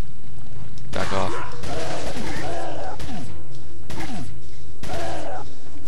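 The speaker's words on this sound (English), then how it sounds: "the TMP is just a pistol that fires fully automatic" TMP machine pistol firing fully automatic in Resident Evil 4: several short, loud, clipped bursts of rapid gunfire separated by brief pauses, with a voice heard between them.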